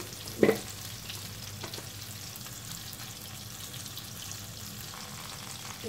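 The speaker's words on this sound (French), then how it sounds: "on va laisser fondre un peu." Butter melts in a pan while potatoes are being sautéed, giving a soft, steady frying sizzle at low level with a brief louder clink near the start, and no voices.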